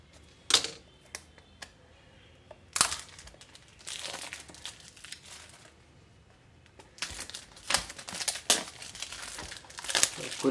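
A knife slices and tears into the packaging of a OnePlus 6T phone box, giving sharp crinkling rips and scraping bursts separated by quiet pauses, close up and fairly loud.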